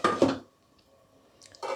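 A lid set on a pot of sautéed tomatoes for a tomato-date chutney: a quick pair of metallic clanks, a short quiet gap, then another clatter of metal on metal close by.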